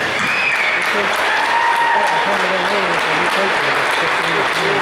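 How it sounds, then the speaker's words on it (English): Steady applause from a crowd fills the whole stretch, with voices audible beneath the clapping. "So how about a round of applause for that?"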